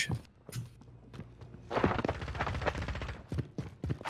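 Gunfire in a video game: a scatter of sharp close shots, then a dense burst of rapid fire in the middle, followed by more irregular single shots and thuds.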